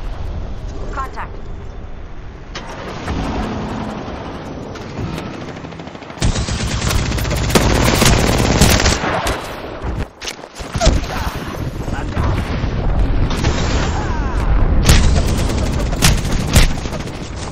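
Sustained automatic gunfire from a video game, loud and dense with rapid bursts and booming hits that intensify after a few seconds, with a player talking over the shooting.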